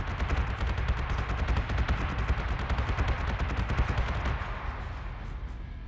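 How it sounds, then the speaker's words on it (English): Missile and weapons fire in the space strategy game Battlestar Galactica: Deadlock, a loud, dense barrage of rapid bursts and booms running continuously for several seconds, easing slightly near the end. "Missiles incoming!"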